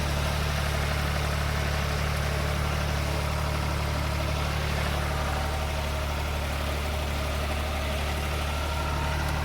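A tractor engine idles steadily for the whole stretch, a constant low rumbling drone with no voices over it.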